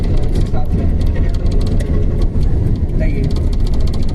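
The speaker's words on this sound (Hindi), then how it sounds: "अभी थोड़े टायर भी पुराने हैं, इस वजह से वाइब्रेशन वगैरह भी थोड़ी इनकी ज़्यादा ही है, रोड नॉइज़ भी ज़्यादा आती है टायर की" An old Suzuki FX hatchback drives along with worn, aging tyres, a constant heavy rumble of engine and tyre road noise filling the cabin, with someone talking over it throughout.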